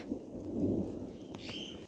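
Steady rain falls over a mountain village with apple trees and barley fields, a continuous close patter with low rumbling underneath and no talk.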